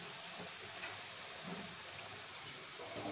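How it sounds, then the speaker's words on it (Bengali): Urad dal fritters (bora) fry in hot oil, giving off a soft, steady sizzle and crackle with faint scattered pops and no voices. "যতক্ষণ বড়াগুলো ভাজছি"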